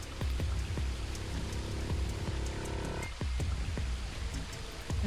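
Spring rain falling in a warm, wet forest in the video game Virtue's Last Reward, a continuous soft patter with scattered close drops plinking through it, steady and moderately quiet.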